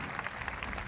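Audience applause at the Estival Jazz Lugano 2015 festival, a steady wash of clapping from a crowd that holds at moderate level for the whole short stretch, with no voices heard.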